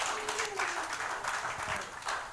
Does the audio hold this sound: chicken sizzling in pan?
no